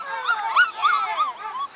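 Young puppies on their first day outside whimper and yip with high, wavering, rapid cries, close and continuous, with no talk over them.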